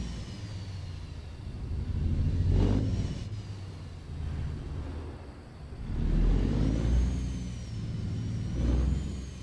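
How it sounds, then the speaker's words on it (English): Truck engine in American Truck Simulator, heard with the cab windows down, a low rumbling drone that swells and eases in two broad waves, with faint higher tonal whines over it. "I love the sound of this engine."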